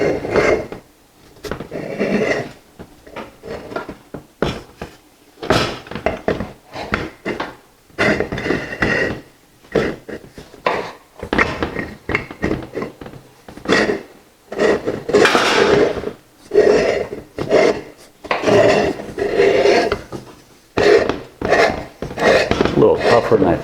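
Metal part being threaded counterclockwise onto a Fabio Leonardi tomato milling machine against a spring, irregular scraping, rasping and clunking in short bursts, close and fairly loud.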